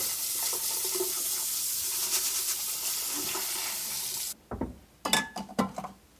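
Tap water runs steadily over white rice for a few seconds, then cuts off, leaving sharp clinks and swishes as the rice is handled.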